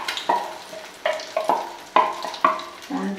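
Egg batter for a Spanish omelette goes into a pan, heard as a run of about six close, sharp scraping and stirring strokes that rise and fade in an uneven rhythm over a faint sizzle.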